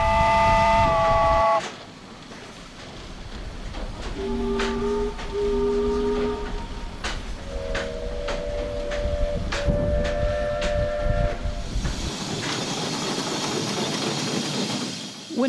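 A steamboat on Klamath Lake, Oregon, hisses loudly and steadily as its engine blows off steam while several sustained whistle-like tones sound in turn, some overlapping, followed by a rushing blast of vented steam near the end.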